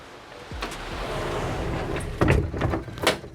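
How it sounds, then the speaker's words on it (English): The parent lock on a Royal Caribbean cruise stateroom door gives a couple of soft clicks, then a louder, close metallic clatter and rattle as it is pulled. "when that parent lock is pulled, the door will not open, and it cannot open"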